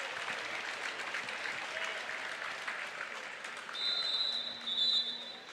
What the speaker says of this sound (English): Just got some applause from the crowd there